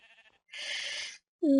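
Sheep in Minecraft bleat in a snowy grove: a short, faint call, then a louder, longer bleat and a sharp final one, heard alone.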